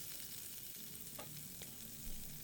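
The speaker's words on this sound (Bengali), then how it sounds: "আরেকটু সর্ষের তেল দিয়ে তার মধ্যে দিয়ে দিয়েছি গোটা গরম মশলা, লবঙ্গ, এলাচ, দারচিনি তার মধ্যে আছে, আর দুটো তেজপাতা।" Whole garam masala spices, cloves, cardamom, cinnamon and two bay leaves fry in hot mustard oil for a mutton curry, a loud, dense, continuous sizzle with a few soft stirring ticks and no voices.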